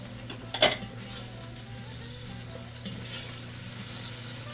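Onion, habanero and sweet peppers stirred in a pan for spaghetti sauce: one sharp utensil clatter near the start, then a soft, steady sizzle that continues quietly to the end.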